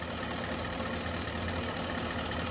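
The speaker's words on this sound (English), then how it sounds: "But this is how the engine sounds. This is how your engine should sound." A high-mileage Porsche Cayenne engine idles smoothly and steadily at close range, a constant broadband hum with no sputtering or surging, heard alone without talking.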